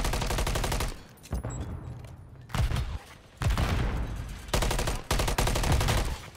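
Call of Duty hardpoint match gunfire: loud, close automatic bursts in several separate volleys with brief pauses between them, rapid rattling shots with heavy low thumps.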